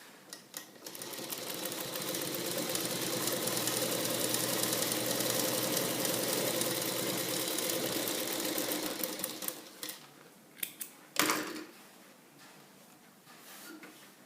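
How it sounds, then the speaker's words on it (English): A sewing machine runs a top stitch along a fabric facing piece in a fast, steady mechanical patter, then slows into short stop-start bursts near the end. "give a top stitch on the facing piece."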